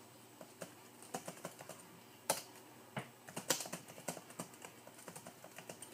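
Laptop keyboard used to type DOS commands while reinstalling Windows 95: quiet, irregular keystrokes tap in quick bursts with brief pauses and a few sharper clacks, and no one speaks.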